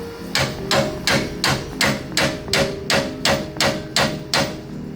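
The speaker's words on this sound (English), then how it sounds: "I just tap the top with the hammer, just gently a bunch of times until it seats all the way down" A hammer gently taps a ball joint down into a spindle on a 2007 Kia Sorento about twelve times in a steady, even rhythm, each tap sharp and ringing, close by with a low hum underneath.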